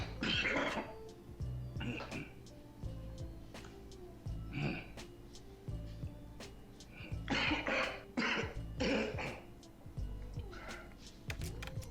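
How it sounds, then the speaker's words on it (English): A man coughs and clears his throat several times in bursts, close and fairly loud, with short pauses and a steady background hum between them. "you see what that coughing is"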